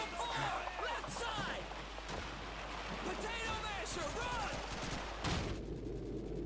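Call of Duty 2 battle at Hill 400 with sustained gunfire and bursts of shots, a grenade blast near the end, and talk and game voices running throughout.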